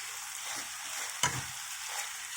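Okra frying in a pan gives a steady, close, broadband sizzle throughout, with one brief stirring scrape partway through.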